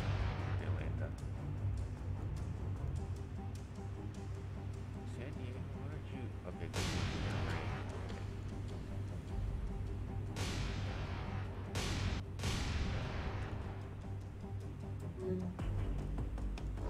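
Naval anti-aircraft guns on a ship firing at attacking planes in the World War II naval game War on the Sea, with heavy booming shots over a constant low engine rumble and someone talking now and then.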